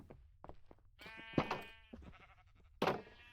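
Sheep in Minecraft bleat several times in short quavering calls, with two louder bleats standing out among quieter ones over a faint low background.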